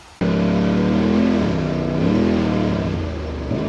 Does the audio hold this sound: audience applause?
no